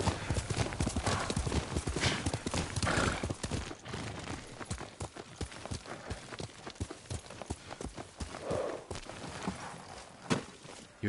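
Horse hooves clip-clopping in the video game Ghost of Tsushima, a steady walking rhythm of close, distinct hoofbeats on hard ground with a brief whinny-like sound partway through.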